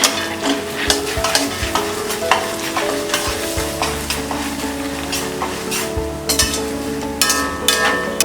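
A spoon stirring red chili powder and powdered sugar together for diet bhel, with repeated sharp scraping clinks against the bowl in an irregular rhythm, close and fairly loud.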